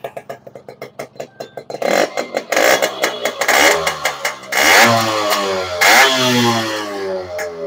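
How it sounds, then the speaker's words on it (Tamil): A restored Yamaha RX100 motorcycle engine fires in slow, evenly spaced idle beats, then catches and revs repeatedly. The loud, close bursts rise and fall with a raspy exhaust note and no talking. "ஸோ இப்போ இந்த வண்டியோட பீட் சவுண்டு காட்டுறேன் பாருங்கள்."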